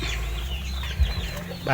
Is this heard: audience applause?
no